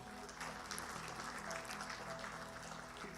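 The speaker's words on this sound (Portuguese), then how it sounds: "Dê um aplauso bem forte ao Senhor" A congregation at a Portuguese-language church service claps together in steady, sustained applause that stays fairly distant and even throughout, with no speech.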